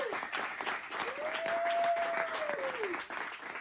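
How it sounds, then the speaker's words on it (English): A crowd at a bike launch event applauds the team, steady continuous clapping heard from a distance at moderate volume, with a faint tonal whine running through it. "I just want to give a round of applause to you."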